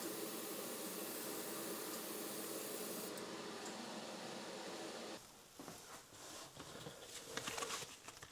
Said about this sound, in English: using the airbrush, you get really consistent results